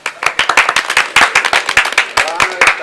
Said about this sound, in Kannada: ನಿಮ್ಗೆ ಒಪ್ಪಿಗೆ ಇದ್ರೆ ಚಪ್ಪಾಳೆ ತಟ್ರಿ